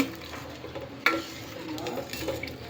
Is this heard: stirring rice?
yes